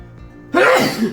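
A loud, close sneeze bursts out about halfway through after a near-silent start, happening indoors during a chocolate and peanut-butter snack tasting.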